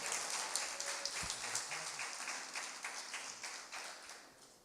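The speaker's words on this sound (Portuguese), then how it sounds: "Eu queria que vocês dessem uma salva de palmas para glorificar esse Deus maravilhoso" A church congregation claps to glorify God during a service, with soft, fairly rhythmic clapping close by, fading gently toward the end.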